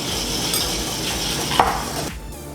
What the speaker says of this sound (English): I'm going to go ahead and give this a nice whisk